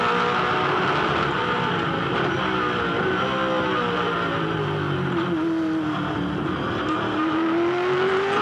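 Loud, sustained roar of V8 Supercar race cars at the 2007 Tasmania Challenge, engine pitch sweeping upward as a car accelerates out of turn 2, with several engines layered together.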